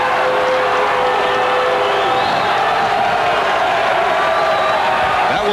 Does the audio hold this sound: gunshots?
no